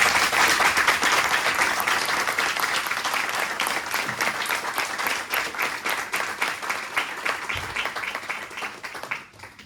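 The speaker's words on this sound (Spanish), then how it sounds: "Un fuerte aplauso a..." An audience in a philosophy faculty lecture hall breaks into sustained, loud applause after a talk, dense clapping from many hands that thins and fades toward the end.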